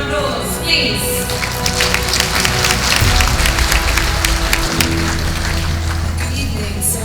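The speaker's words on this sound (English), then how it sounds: "Ladies and gentlemen, a round of applause, please." Audience applause at an evening awards ceremony, a broad steady patter of many hands filling the room for several seconds, with music or background hum underneath.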